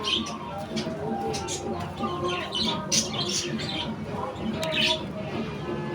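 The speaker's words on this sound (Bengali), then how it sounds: "হচ্ছে পাহাড়ি শালিক।" A hill myna calling inside a pet bird shop, repeated squawks and chirps over a busy background of other caged birds, fairly close and continuous.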